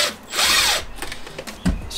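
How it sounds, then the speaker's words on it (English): A cordless power drill drives out a screw on a Greenworks lawn dethatcher during a tine repair: a loud, steady half-second whir, then quieter clicks and small mechanical knocks close by. "then I just hold that there and take my drill"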